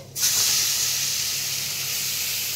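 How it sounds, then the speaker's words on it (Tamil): Onions dropped into a hot pan for an Indo-Chinese bread masala, bursting into a sudden, loud, steady sizzle that holds evenly with no talking. "நம்ம வெங்காயம் போட்டுக்கலாம்"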